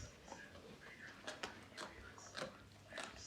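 Dog chews and gnaws on bones nearby, producing irregular crunching bites and cracks at a quiet level, with faint room noise between the chomps.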